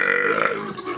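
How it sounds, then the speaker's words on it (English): A man lets out one long, loud, close burp that rumbles on steadily for about a second. "enjoy some of the best burps of the past decade"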